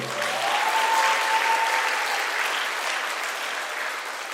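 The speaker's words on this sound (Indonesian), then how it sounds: "mari kita rayakan kelulusan angkatan yang luar biasa ini dengan tepuk tangan yang meriah" Applause from a crowd at a high school graduation ceremony celebrating the graduating class, dense and steady clapping that swells early then holds, with a brief tone under it and almost no talk.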